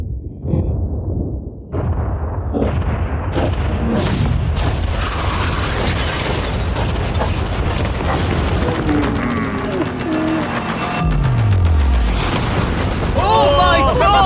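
A large explosion set off to blow up a yacht during a MrBeast challenge: a deep booming blast rumbling loudly for several seconds, followed by crackling debris and a falling whistle, with excited voices over it.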